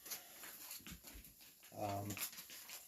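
A puppy whimpers indoors, a brief, faint whine rising midway through an otherwise quiet stretch.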